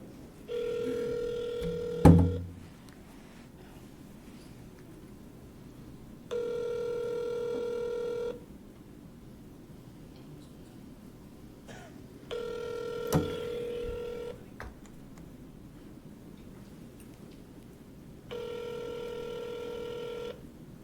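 Telephone keypad tones during a call placed at a city council meeting: four separate bursts of steady dialing tones a few seconds apart, fairly faint, with a couple of sharp clicks and a quiet room behind.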